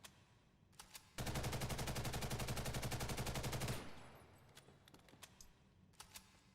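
Sustained automatic burst from an M4 rifle in Ghost in the Shell: First Assault, a rapid even rattle of shots lasting over two seconds, loud and close, with a few quieter clicks before and after.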